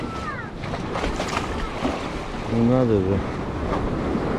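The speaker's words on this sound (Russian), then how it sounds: "Видите, то волны нету, то смотрите, прям какая волна." Sea surf washes against the shore at Lazarevskoye, a Black Sea beach in autumn, giving a steady broadband roar with a surge midway. Someone speaks briefly in Russian over the rush of the waves.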